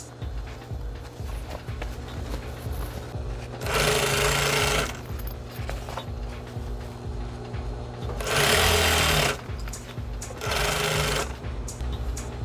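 A sewing machine stitches a lining to canvas in three loud bursts of rapid needle chatter, separated by quieter stretches with faint handling and a low background hum.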